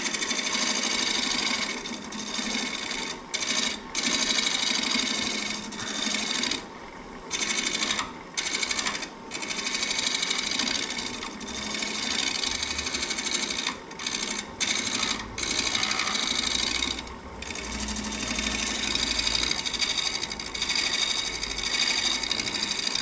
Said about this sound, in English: My negative rake scraper, this big old thing. So we'll just turn this out here